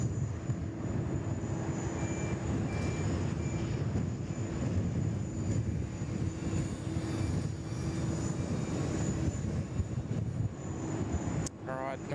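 A China Southern airliner, an A350, rolls past at Sydney Airport as a steady, distant broadband roar of jet engines, with voices of plane spotters talking over it throughout.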